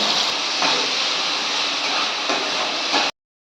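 Diced potatoes and carrots with salt and dried red chili frying in oil, a steady loud hiss of sizzling that runs unbroken for about three seconds before cutting off abruptly.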